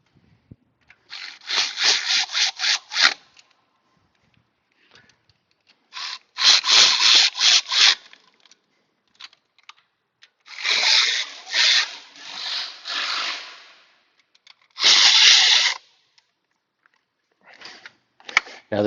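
Valve cover bolts on a Nissan Pathfinder being tightened by hand with a ratchet, heard as close, bursts of rapid rasping clicks in four separate runs with short pauses between them, no talking.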